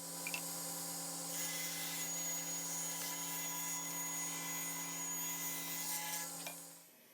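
Table saw ripping a 2x4 board into 1.5-inch strips against the fence, a steady, loud motor whine with a rough cutting rasp that holds for several seconds and then winds down.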